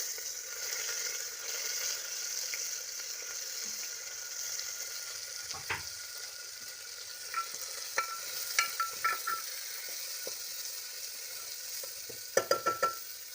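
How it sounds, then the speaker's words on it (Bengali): A steady sizzle of onions frying in a pressure cooker fills the clip, with occasional clinks and scrapes of stirring growing more frequent toward the end. "এবার প্রেসার কুকারে আমরা পেঁয়াজগুলোকে ভাজতে দিয়ে দিচ্ছি।"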